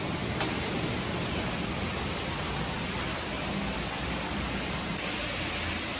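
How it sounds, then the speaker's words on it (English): Steady broadband rush of running water inside an old barn, continuous and even throughout with no other distinct sounds. "You can hear the water."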